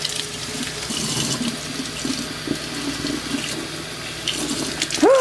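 Water pouring steadily from a container onto potted house plants during watering, a continuous close splashing and trickling wash that runs throughout, ending with a brief squeaky sound.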